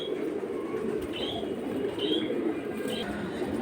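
Caged pigeons, high-flying Giribaz and silver birds, give soft coos and a few short chirps over a steady background hum, near and moderately faint.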